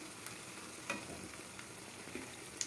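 Stuffed brinjal (gutti vankaya) curry being stirred gently in a pan, faint soft scrapes and a low simmering sizzle with a few light clinks, no talk.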